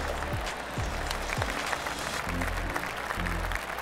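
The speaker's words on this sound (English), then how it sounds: "get the fans cheering" Golf crowd in PGA Tour 2K21 cheering and applauding after a practice swing, a steady wash of clapping with a few thumps, moderately distant and continuous throughout.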